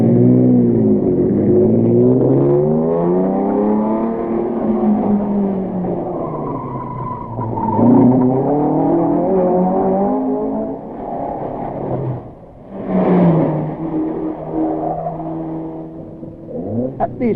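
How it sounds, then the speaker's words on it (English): Datsun rally cars drive through on a 1971 Rally de Portugal stage. Their engines rise and fall in long, swelling revs, easing off briefly before another car roars past close by. "Datsun 102 of the Van Bergens passes through towards the stage and is quickly followed by another Datsun of"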